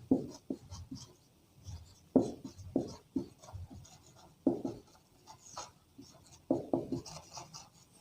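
Chalk or marker writes on a board in short scratchy bursts and strokes, spaced irregularly with pauses between, close and fairly quiet, with no speech over it.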